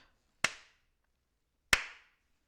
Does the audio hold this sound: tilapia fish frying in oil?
no